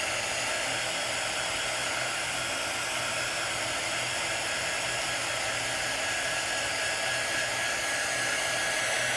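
A hair dryer blowing steadily and loud on a craft project of dragonfly vines, a constant close whooshing hum with no talking.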